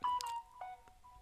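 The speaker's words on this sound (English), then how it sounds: "let me switch off my phone because it's making noise now" A mobile phone gives off a brief run of electronic beeps and tones, fairly faint, with no voices present.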